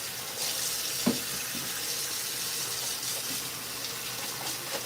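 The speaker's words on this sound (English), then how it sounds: "Let me wash my hands." Hands being washed under a running kitchen tap, a steady close hiss of flowing water with a few small splashes and clinks, no talking.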